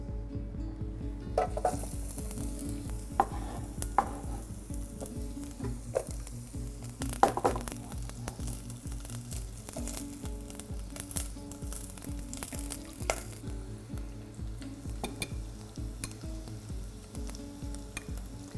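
Chopped onions cooking gently in a small amount of rapeseed oil in a pan, a soft steady sizzle with occasional stirring scrapes and light clinks, close and fairly quiet, no talking.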